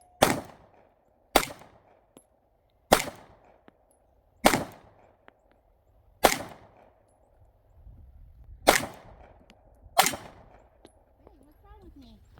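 Seven loud gunshots crack one at a time at a shooting range, spaced about a second or two apart, each decaying quickly into quiet, with faint voices near the end.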